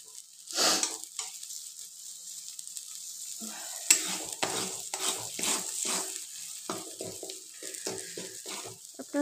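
Beaten egg is stirred with a metal spatula in a kadai over a medium flame for a flour-and-egg snack, with repeated scraping strokes against the pan over a soft, steady sizzle.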